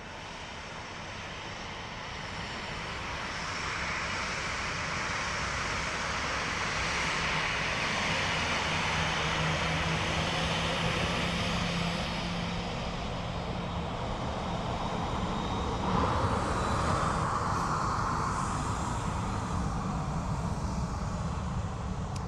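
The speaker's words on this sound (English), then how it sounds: "next in, as I said, an ATR 72-600 of Aer Lingus" An Aer Lingus ATR 72-600 turboprop arrives at Dublin Airport, its engines producing a steady broad roar that swells gradually and stays sustained at a moderate distance, with no talk over it.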